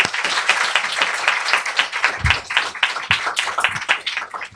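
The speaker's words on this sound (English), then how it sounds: "So one more round of applause for Vijay" A book-event audience gives a short round of applause for S. Vijay Kumar, a close, fairly sparse patter of individual claps rising and falling in uneven bursts.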